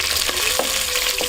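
Small onions sizzle and crackle in hot oil with cinnamon and cloves, a steady frying hiss with light stirring scrapes.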